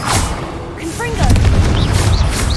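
A Confringo spell explodes in a wizard video game with deep booming blasts and a crackling burst. The sound is loud and close, and game sound effects and voices play over it.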